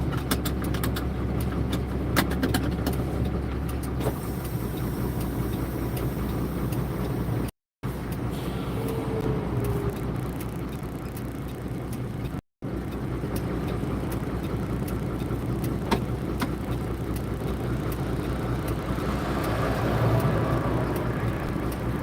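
Steady, loud engine drone of a 1986 Ford CF7000 Cargo truck while driving, with continuous road rumble interrupted by two very brief gaps.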